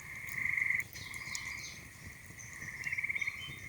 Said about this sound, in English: Listen to that gray tree frog, isn't that neat?